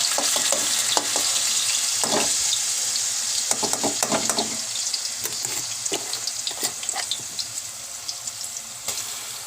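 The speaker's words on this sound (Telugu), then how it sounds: "ముందుగా ప్రిపేర్ చేసుకున్న పేస్ట్ ఆయిల్లో వేసి" Spice paste for a chicken curry sizzling and frying in oil in a pan, a steady crackling hiss broken by stirring scrapes and occasional sharp pops, close and continuous with no talk.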